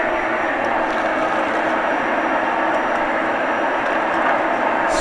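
Shop vacuum fitted with a Dustopper cyclone separator sucking up debris such as screws and wood pieces, a loud constant rushing whine that stays close and steady throughout.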